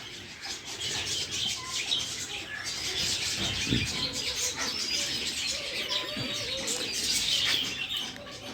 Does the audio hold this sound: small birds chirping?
yes